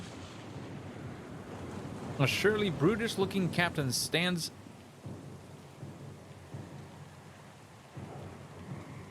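Stormy sea from the game Pillars of Eternity 2, with a steady wash of wind, rain and waves and faint low rumbles beneath, while a voice speaks over the middle stretch before the storm noise carries on alone.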